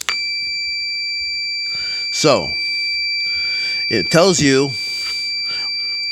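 An automotive multimeter sounds a continuity beep, a steady high-pitched electronic tone that holds through the whole stretch while someone talks over it.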